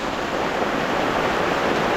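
Water gushing into a fish pond through a repaired irrigation feed during heavy rain, a steady, dense rush that stays loud and unbroken throughout.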